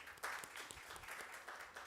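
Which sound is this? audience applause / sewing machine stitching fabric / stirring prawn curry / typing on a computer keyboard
audience applause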